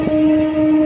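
A train runs along a railway track between tall hills, heard as a steady, sustained tonal drone at close range with no talk over it.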